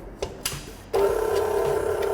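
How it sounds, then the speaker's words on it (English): An electric mixer beating cake batter for an upside-down raspberry cake at medium speed, starting after a few light clicks and running as a steady, close whirring hum. "I'm going to beat this on a medium speed until it's pale"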